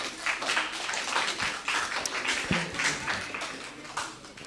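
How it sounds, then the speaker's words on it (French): Audience applause at a French youth freedom prize ceremony, a steady spread of many hands clapping at moderate level with a few sharper claps standing out, no talk over it. "Vous pouvez vous applaudir vous-même."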